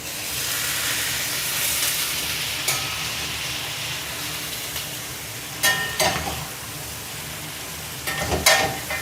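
Prawns sautéing with shallots and garlic in a hot pan, a steady sizzling hiss with occasional louder stirring scrapes and tosses, close up with no talking.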